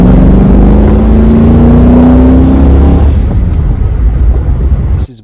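A Holden VL Commodore Group A SV racing around Eastern Creek circuit, its engine loud and close with a rising drone as it accelerates, then settling into a rougher steady roar before cutting off abruptly.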